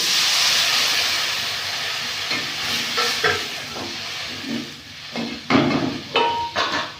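Mixed water poured into a pan of frying sarpunti fish, a strong steady sizzle and hiss that slowly fades into bubbling with clanks and scrapes from the pan.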